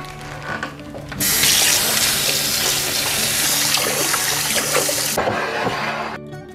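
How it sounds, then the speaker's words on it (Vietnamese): Tap water gushes strongly for about four seconds, splashing as pig stomach is rinsed under it, then cuts off. "bây giờ tôi mang đi xả nước"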